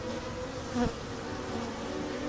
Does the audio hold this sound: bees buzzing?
yes